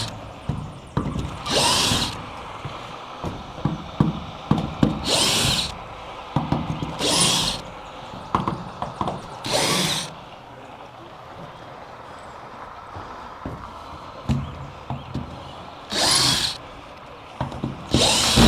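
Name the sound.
power drill removing screws from roof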